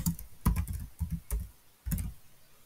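Keystrokes on a computer keyboard while entering a search term in a code editor's extension search bar; a few close, irregular clusters of clicks with short pauses between bursts, no voices.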